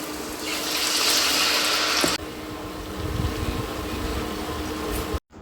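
A loud, steady stove burner roar fills the clip, a constant rushing hiss that eases slightly partway through and keeps going with no talking.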